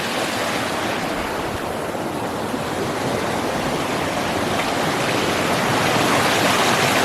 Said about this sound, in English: we have water flowing.